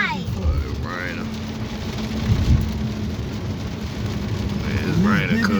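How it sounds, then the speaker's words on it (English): Rain falls steadily as a constant hiss under the voices of people talking, with car sounds in the background. "Yeah, it was raining."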